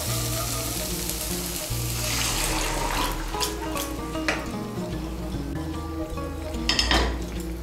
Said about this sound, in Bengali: এখন আমি এর মধ্যে দিয়ে দেবো সেদ্ধ করা ছোলা